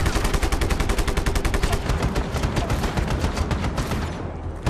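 Loud, rapid automatic gunfire from the video game Just Cause 3 rattles in a continuous burst of evenly spaced shots, close and dense, cutting off just before the end.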